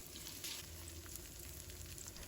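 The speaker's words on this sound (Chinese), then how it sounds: "油热之后把姜片放入锅中，翻炒一下。" Ginger slices stir-fry in hot cooking oil in a wok, a steady close sizzle with faint stirring scrapes running without a break, before chicken wings go in for cola chicken.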